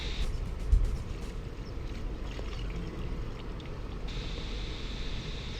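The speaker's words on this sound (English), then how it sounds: "Once I'm done, I'll usually rinse out my cone filter as well" Water rinses through an airbrush cone filter: a quiet, continuous splashing rush of running water with no voices.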